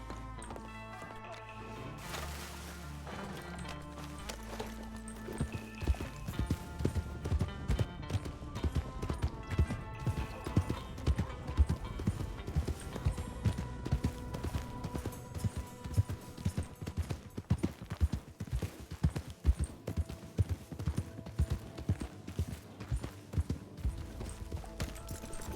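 Rhythmic hoofbeats of a horse in RedM clop along under game music, growing steadier and louder as the horse picks up pace.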